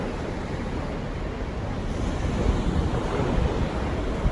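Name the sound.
ocean waves rolling in on the southeast coast of Japan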